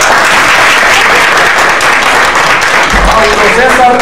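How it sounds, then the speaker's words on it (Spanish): Audience applause at an evening concert by a Colombian trumpet ensemble, a dense, steady wash of clapping that fills the whole stretch, loud and close, with a low rumble joining near the end. "Un aplauso para él, por favor."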